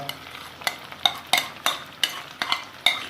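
Beaten egg mixture for an aloo anday curry goes into a pan with potatoes and masala and is stirred, giving a soft sizzle under repeated scraping strokes about twice a second, close by.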